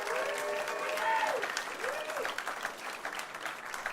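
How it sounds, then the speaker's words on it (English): Audience applause at a live comedy show, The Gong Show, a sustained dense clapping from a crowd filling the whole stretch, with a voice speaking over it. "Give them a round of applause."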